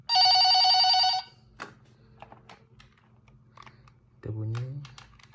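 A loud electronic ring from a home VoIP phone during a test call on a local EPON network sounds once at the start, followed by faint clicks and tapping and then a brief voice.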